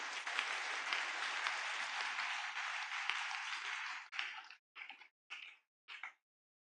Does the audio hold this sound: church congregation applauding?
yes